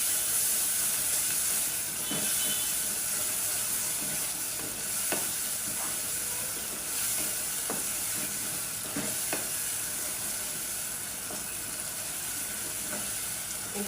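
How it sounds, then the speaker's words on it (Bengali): Spiced egg and chicken curry sautés in oil, giving a steady loud sizzling hiss with occasional spoon scrapes against the pan, close by and with no voices. "এখন এটা ভালো করে কষায় নেব।"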